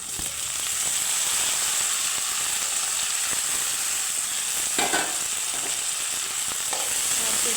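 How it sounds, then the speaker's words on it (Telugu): Tomato pieces fry with carrot and onions in a pan, making a continuous moderate sizzle with occasional stirring scrapes and clicks, heard close with no talking. "ఈ టమాటా ముక్కల్ని ఈ క్యారెట్ ఆనియన్స్లోకి యాడ్ చేద్దాం"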